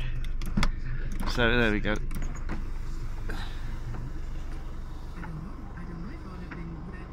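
The power sunroof on a Mercedes A-Class A180 Avantgarde SE CDI diesel automatic slides back with a brief electric motor whir and a faint click, followed by a voice over a low cabin hum.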